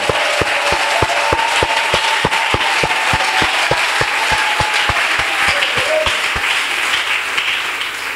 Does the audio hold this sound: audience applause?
yes